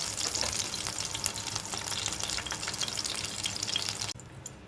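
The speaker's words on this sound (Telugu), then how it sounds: "ఇలా మిర్చి సగానికి కట్ చేయడం వల్ల మనకు పేలకుండా మంచిగా వేగుతాయి" Halved green chillies frying in hot oil in a home kitchen: a dense, even sizzling hiss close up that cuts off abruptly near the end, with no talk.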